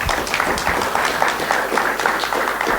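At a Linux App Summit session, an audience claps after a talk, a sustained patter of many hands with individual claps standing out, fairly close and steady throughout.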